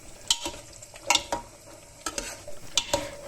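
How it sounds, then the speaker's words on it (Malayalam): Boiled eggs are stirred into a Kerala-style egg curry in a pressure cooker pot, giving a few sharp utensil scrapes and clinks over a soft bubbling sizzle, close and with no talk. "ആ മുട്ട നമ്മളതിലേക്ക് ഇട്ട് കൊടുക്കുകയാണ് കേട്ടോ, കറിയിലോട്ട് ഇട്ട് കൊടുക്കുകയാണ്. നന്നായിട്ടൊന്ന് ഇളക്കി മിക്സ് ചെയ്ത് കൊടുക്കാം."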